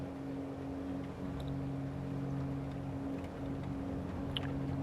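A fighter plane's engine in War Thunder turns over and settles into a steady droning hum with a low tonal whine as the aircraft rolls forward on a carrier deck, continuous and fairly loud throughout.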